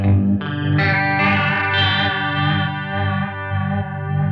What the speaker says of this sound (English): A slow tremolo and a deep chorus make a sound that your signal is waking up, still drunk from last night.